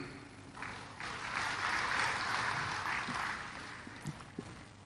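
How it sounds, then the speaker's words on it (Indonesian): Audience applause in a university hall during a formal academic lecture, a soft, fairly faint swell of clapping that rises and fades over a few seconds. "Jangan terlalu cepat tepuk tangan."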